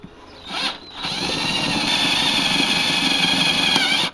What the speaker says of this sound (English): I'm going to drill out these rivets